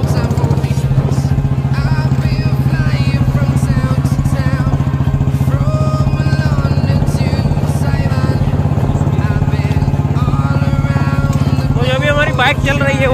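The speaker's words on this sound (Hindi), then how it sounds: "बाइक चल रही है, वो चल रही है" Royal Enfield Bullet motorcycle riding at about 40 km/h, a continuous low engine thump under the rider's talk, with steady wind and road noise throughout.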